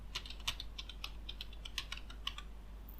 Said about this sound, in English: Now type the password you want to set and continue.